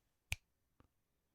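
A single sharp finger snap cracks out clearly in a quiet room, followed by a softer faint click a moment later.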